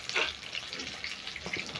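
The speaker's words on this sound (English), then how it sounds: "While my chicken is frying" Chicken breast frying for chicken katsu, giving a soft, steady sizzle with crackly bursts, fairly quiet and close, with no talking.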